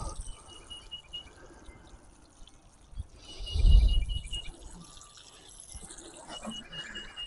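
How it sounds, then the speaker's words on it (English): Fish emulsion solution poured from a 2-gallon watering can onto newly planted pepper plants outdoors, a soft close splash and trickle swelling briefly in the middle amid faint background hiss. "now I'm going to water them with some liquid emulsion, fish emulsion liquid"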